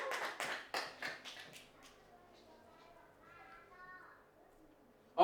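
Festival stage audience giving a short round of applause for the band, a few quick bursts of claps that fade into faint murmuring and background voices.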